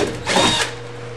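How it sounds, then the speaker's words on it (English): A power drill with a half-inch bit whirs briefly up close while drilling a hole in a kayak hull, its motor surging for a moment and then settling back. "go ahead and drill that hole."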